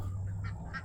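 Ducks quacking in a backyard garden with chickens about, a few short nasal calls near the mic over a low steady hum, no talking.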